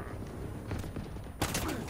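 Rapid turret fire in Halo Infinite rattles off in a dense, steady burst, close and loud, with a sharper blast near the end amid busy game noise.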